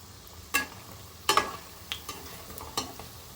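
Onion bhaji fritters frying in oil as they are flipped, a quiet background sizzle punctuated by several sharp clinks and scrapes of the utensil, close but fairly faint overall, no talking.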